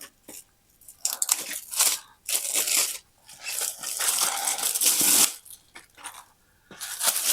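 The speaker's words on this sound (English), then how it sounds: "let's get the slipcover bag off of it" A thin plastic slipcover bag is pulled off a FansToys FT-59 transforming robot toy figure, giving close, loud bursts of crinkling and rustling with brief pauses between tugs.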